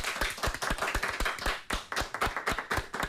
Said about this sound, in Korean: 큰 박수 보내주실까요?